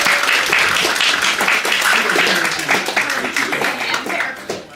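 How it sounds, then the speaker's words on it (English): Audience clapping at a young writers' conference reading, a dense, steady burst of many hands lasting several seconds and tapering slightly at the end. "Well, let's clap then."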